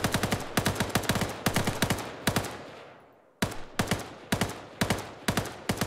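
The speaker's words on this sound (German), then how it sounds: "Ordentlich Schüsse rein." Rapid bursts of gunfire in the video game Arma 3 crack out in quick rhythmic volleys, pausing briefly with a fading echo before the shooting resumes.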